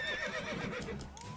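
A horse in The Witcher 3 gives a brief, close whinny with a rising and falling pitch, loud and alone for just over a second.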